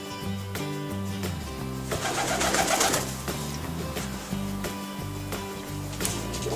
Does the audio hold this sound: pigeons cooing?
yes